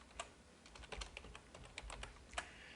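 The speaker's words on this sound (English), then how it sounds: "and then type in your information" Quick, light keystrokes on a computer keyboard as account details are entered, a steady run of close clicks with a few louder taps, no talk.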